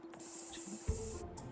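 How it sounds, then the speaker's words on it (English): A spray can lets out a steady hiss of about one second, followed by a brief second puff. The sound is close but fairly quiet, with a low background hum. "Use that spray can."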